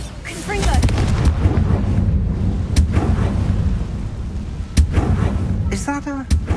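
Confringo fire spell explosions in the Hogwarts Legacy video game: loud, rumbling booms fill the clip, with sharp blasts near the middle and a crackling burst toward the end.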